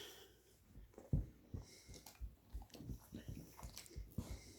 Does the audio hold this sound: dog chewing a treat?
yes